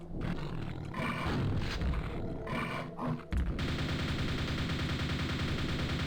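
Rapid nail gun fire in Quake, a dense mechanical stream of shots that turns into a continuous roaring barrage halfway through, loud and alone with no voices.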